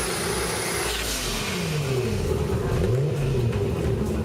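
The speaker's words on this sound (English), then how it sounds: "this car is so impressive, the way it picks up, the way it revs" A VR6 turbo-powered Volkswagen Polo drag car accelerates hard at a drag strip, its engine revving and rising in pitch through gear changes, loud and sustained from near to mid distance.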